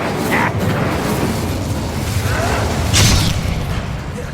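A fiery Incendio spell cast in Hogwarts Legacy bursts with a whooshing boom amid busy combat noise, with a sharp burst near the end and a voice heard shouting spell names.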